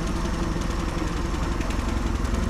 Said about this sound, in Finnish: Tyhjäkäynti on ehkä ryypyn kanssa vähän pienellä, mutta erittäin nätti ääninen kone